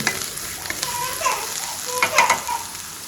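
Close, busy sizzling of onions frying in a pan for paneer curry, with scraping stirs and occasional clinks, no talking.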